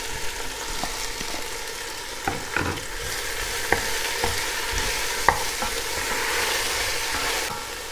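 Chopped red, white and yellow onions fry in a pan with a steady, fairly loud sizzle, broken by occasional sharp clicks and scrapes of stirring.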